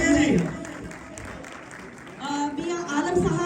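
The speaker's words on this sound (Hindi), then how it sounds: "उनके लिए जरा भरपूर क्लैप कर दीजिए" Audience in a hall clapping in welcome, a steady wash of applause rising and falling beneath someone speaking over a microphone.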